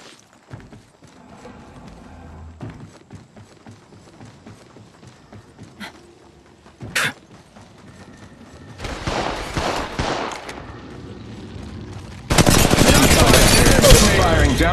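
Gunfire in Apex Legends Mobile, two loud sustained bursts near the end following quieter scattered shots and clatter, with game sounds underneath.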